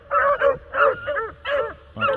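A dog gives repeated short yipping barks mixed with whiny whimpers, four close bursts in a steady rhythm, loud and near with no voices.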